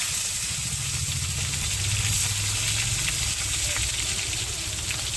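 Chopped tomatoes sizzling in a frying pan for a fish recipe, a steady close hiss of frying with faint bubbling and no talk.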